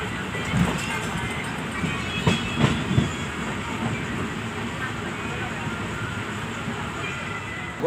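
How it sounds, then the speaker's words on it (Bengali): A train rolls into Haridwar station with a low steady rumble and scattered wheel clicks and clanks, heard close with some voices in the background. "ট্রেনটা মোটামুটি রাইট টাইমে আমাদের ঢুকিয়েছে।"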